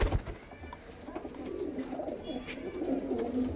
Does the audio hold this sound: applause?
no